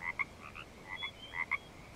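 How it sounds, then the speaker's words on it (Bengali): Frogs croak outdoors at night after a storm, with short paired calls repeating in clusters against a quiet background and no voices. "ব্যাঙের ডাক ভেসে আসছে বাইরে থেকে।"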